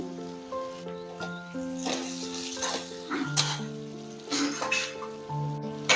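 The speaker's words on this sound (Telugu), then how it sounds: "ఈ వంకాయలను ఆయిల్లో బాగా ఫ్రై చేసుకోవాలి" Sliced eggplant fries in hot oil for a festival curry, a steady sizzle and crackle playing under louder background music.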